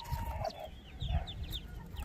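A hen clucks softly alongside her ducklings, short rhythmic calls and faint cheeps coming in small bursts close by, with no talking.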